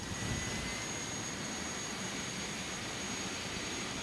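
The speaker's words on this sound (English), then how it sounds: "start the number 1 engine." Steady simulated jet airliner engine roar as engine number 1 starts in a home-cockpit flight simulator, an even broadband hiss with a high tonal whine throughout, no talk.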